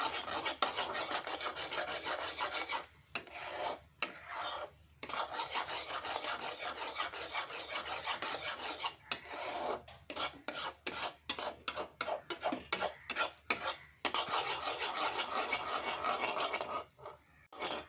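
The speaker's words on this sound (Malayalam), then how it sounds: "ഇത് കുറച്ച് നേരം ഇളക്കണം നമ്മൾ കേട്ടോ" A utensil scrapes and rubs rhythmically around a pan of sugar syrup in long bursts, pausing briefly between strokes, close and fairly loud with no talking.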